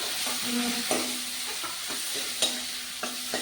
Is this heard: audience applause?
no